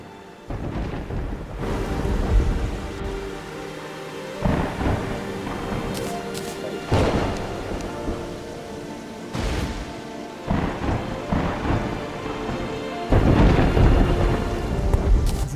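Rain and thunderstorm in the video game Terraria Calamity, with steady rain hiss running under repeated loud thunder cracks and rumbles every few seconds and no talk throughout.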